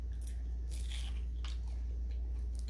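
Someone bites and chews a crunchy, sugary Jollibee fried pie close to the mic, with several sharp crunches over a low steady hum.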